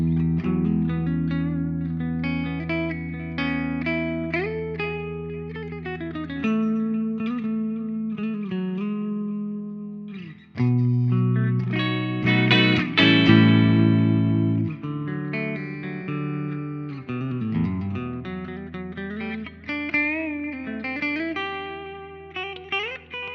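An electric guitar, a Gibson Standard '60s on its middle pickup position, plays chords and melodic runs with a warm, effected tone and some distortion, loud and steady, no voices.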